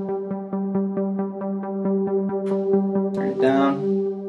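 A synthesizer string pad played in MainStage holds a sustained chord under quick, evenly spaced rhythmic pulses. A short noisy flourish rises near the end, loud and without speech.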